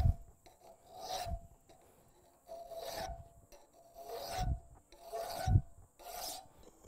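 A hand file smooths and blends a hand-held workpiece in about six distinct rasping strokes, close by and evenly paced, each a scratchy rub separated by short pauses, with no talking.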